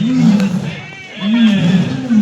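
A lion at Nandankanan zoo lets out deep, rhythmic grunting roars, two loud pulsing bursts separated by a short pause, heard close with crowd noise around it.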